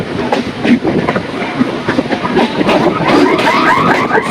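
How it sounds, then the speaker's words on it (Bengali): A Kolkata Chakra Rail train rolls beneath Howrah Bridge, its wheels clattering in a steady rhythmic clickety-clack with a loud, close, continuous rumble throughout. "হাওড়া ব্রিজের নিচে দিয়ে আমার ট্রেন যাবে এই মুহূর্তে"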